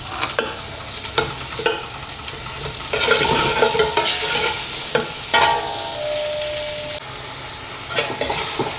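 Onions sautéing with chicken in a pan for chicken sopas, a close, steady sizzle broken by sharp scraping and clinking stirs of a utensil against the pan.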